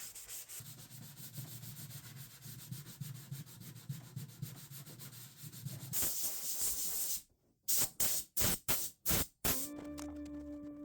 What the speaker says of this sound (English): I sanded one last time by hand the whole sign just to make sure everything was perfect